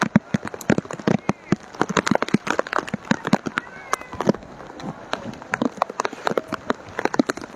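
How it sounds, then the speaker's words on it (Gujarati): Heavy rain falls on the Padra market area, with loud, close drops pattering irregularly on a nearby surface throughout. "ખૂબ જ ભારે વરસાદ વરસી રહ્યો છે।"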